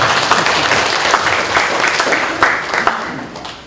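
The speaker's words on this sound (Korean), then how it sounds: "여기서 박수를 한번 치십니다." Church congregation clapping during a Sunday worship service, a dense burst of applause from many hands that fills the room, then tapers off toward the end.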